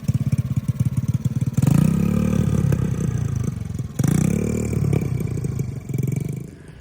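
A 1985 Honda ATC70 three-wheeler fitted with a 125cc engine, ridden close by with a steady chugging idle that rises into repeated revs and throttle bursts, then settles and climbs again.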